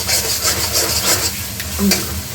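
Chole masala sizzles and fries in oil in a pan while being stirred, giving repeated close scraping strokes over a constant crackling sizzle, with no talking.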